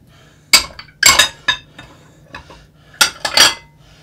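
Dishes, pots and cutlery clatter as they are shifted around a home kitchen during meatloaf dinner preparation, with sharp close clanks and clinks in uneven bursts separated by quiet gaps.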